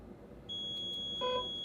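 Waydoo eFoil board giving electronic beeps during Bluetooth remote pairing: a steady high tone starts midway, then a short brighter beep near the end, faint and alone over low background rumble.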